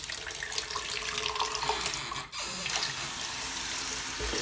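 Water runs steadily from a kitchen sink faucet fitted with a 1080-degree swivel aerator into a tall cup, a continuous close rushing splash with a brief dip partway through.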